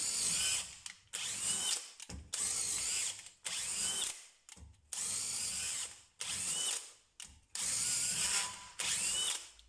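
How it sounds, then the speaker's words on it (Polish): A DeWalt DCD996 cordless drill with a 10 mm bit bores into a 40 mm wooden beam in repeated loud bursts of whirring, each about a second long with brief pauses between them. "teraz wam pokażę, jak sobie radzi z wierceniem"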